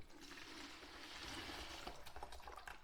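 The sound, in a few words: liquid being poured into a bucket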